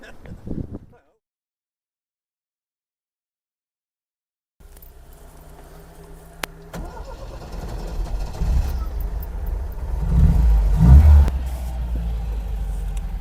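A 1979 MGB GT's engine rumbles from inside the cabin while driving, starting after a brief silence and building louder and steadier as it pulls away, with a swell near the end.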